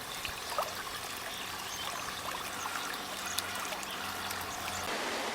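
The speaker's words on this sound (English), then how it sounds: "Poor maintenance of urban water systems and broken pipes allow tens of millions of litres of water to run to waste." Water from broken pipes in a poorly maintained urban water system runs to waste with a steady, continuous trickling and flowing hiss, even and unbroken throughout, with no voices.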